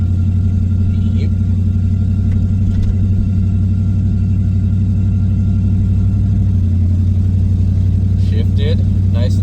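An LS V8-swapped Monte Carlo drives with a steady, loud engine rumble running throughout, a brief shift in the middle, and a voice talking over the engine noise.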